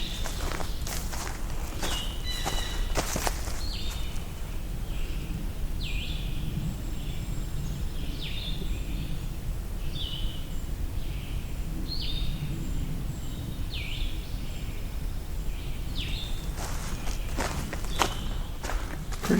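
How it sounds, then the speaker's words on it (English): A dark-eyed junco trills far off, its faint, repeated high notes recurring through the clip beneath nearby rustling and footstep-like thumps. "Pretty sure it's dark-eyed junco from what I'm hearing. Although it's quite far off."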